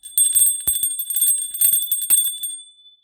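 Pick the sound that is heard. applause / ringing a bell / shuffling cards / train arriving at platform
ringing a bell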